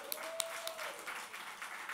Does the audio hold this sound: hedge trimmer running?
no